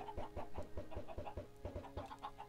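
Rhythmic, steady chicken clucking from blocky Minecraft chickens, repeated short bursts close by throughout with no talk.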